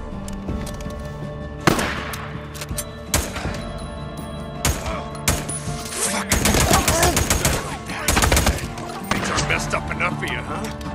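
Heavy gunfire in the open-world game Days Gone: repeated bursts of automatic fire and single shots crack through an ongoing firefight, with loud thumps, overlapping shooting and shouted voices in the background throughout.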